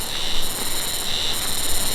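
A cicada drones in a Japanese pine forest, a shrill, continuous buzzing trill that pulses slightly and sounds fairly close, with no talking.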